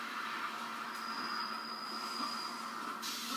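Train rumble in the Far Cry video game, a steady rolling drone with a thin high whine through the middle, heard alone without talk.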